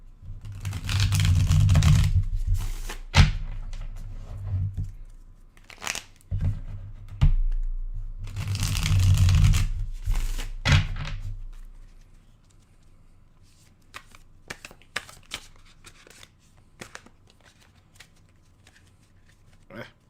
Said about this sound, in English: We try to make sure I get the right amount of shuffles.